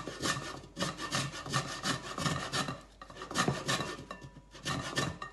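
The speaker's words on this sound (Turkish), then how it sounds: "Önce limonlarımızı rendenin ince tarafından sadece üstündeki sarı kabuğunu alacak şekilde rendeliyoruz." Lemons being zested on the fine side of a hand grater for lemonade: a run of rhythmic, close-up rasping strokes, loud and scratchy, with brief pauses between bursts and no talk.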